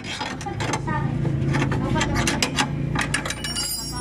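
Wrench ratcheting hard on a rear coil spring bolt of a Mitsubishi Lancer, rapid metallic clicks repeating close up over a low background rumble.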